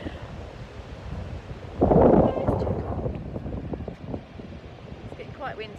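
Wind gusts buffet the microphone with a low rumble on a Scottish beach, swelling into a strong gust briefly, while a voice talks over it outdoors.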